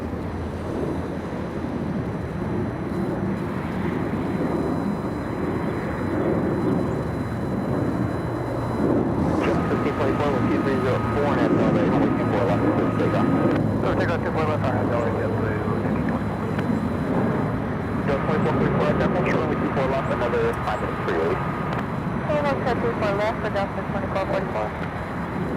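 A Boeing 777 heading for London flies overhead at LAX, a broad, loud jet roar that stays steady across the clip with some wind buffeting and distant airport noise.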